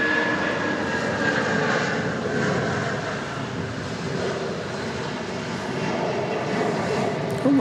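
A Boeing 757 jet roars steadily past at Dallas Love Field, a broad continuous engine rumble that stays loud throughout.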